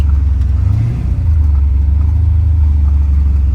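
A car engine hums low and loud as the driver eases off the clutch, with a brief dip and a slight rise in pitch before it settles into a steady, rumbling drone.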